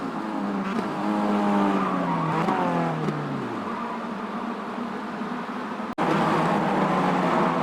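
A race car in iRacing loses control at the bus stop chicane, its engine note dropping as the tires skid and squeal loudly, then a sharp break and more engine roar from other cars.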